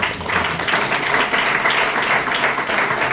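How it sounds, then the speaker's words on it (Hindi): A crowd at a farmers' meeting on fertilizer products claps steadily and loudly, a dense, even wash of applause that holds for the whole stretch with no break or pause. "जोरदार तालियां होनी चाहिए।"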